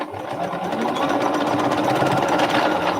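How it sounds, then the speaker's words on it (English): A sewing machine stitches elastic into the end of a fabric strap, a loud, steady, rapid mechanical whir running close and continuous throughout with no speech. "I'm just going to sew it into the end and hopefully pull it through"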